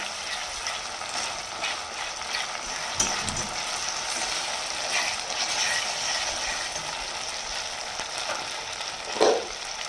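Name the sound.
ginger and garlic frying in a pan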